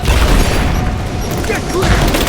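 A grenade explosion in Rise of the Tomb Raider: a dense, loud boom with rumbling low-end debris that stays broad and sustained over the whole clip, with no talk heard.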